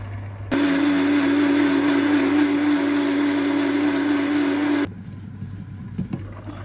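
An electric blender whirs loudly through chopped onions in a steady burst of about four seconds, starting and stopping abruptly, with quiet kitchen sounds on either side.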